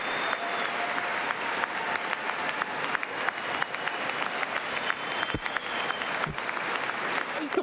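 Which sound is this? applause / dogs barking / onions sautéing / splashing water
applause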